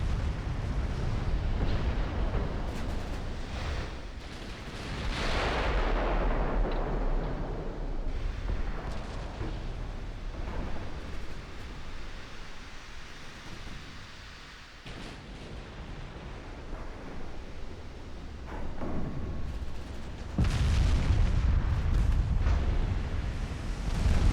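Cruiser guns boom in the naval warfare game Ultimate Admiral: Dreadnoughts, with heavy rolling blasts and rumbling gunfire layered over a dense, continuous battle din that swells and fades and grows loudest near the end.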